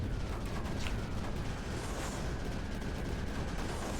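A hectic, continuous barrage of bombs and explosions in the strategy game Creeper World 4, blending into a dense, steady roar with scattered sharper bursts and no voices.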